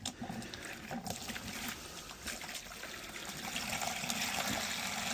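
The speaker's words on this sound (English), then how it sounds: "Put the water in." Water is poured into a concrete mixing bucket, giving a steady, continuous splashing trickle that stays fairly quiet and even throughout.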